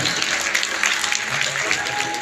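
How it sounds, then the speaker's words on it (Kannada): An audience applauds loudly at a road safety day event run by a transport department, a dense, continuous clatter of clapping while a speaker's voice carries over it. "ಮತ್ತೊಮ್ಮೆ ಜೋರಾದ ಚಪ್ಪಾಳೆಗಳ ಬನ್ನಿ"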